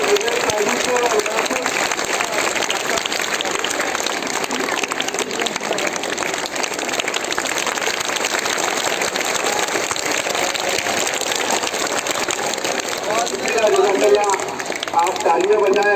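Applause from the audience at a felicitation ceremony in a school fills the hall, dense and steady for the whole stretch, with voices faintly mixed in.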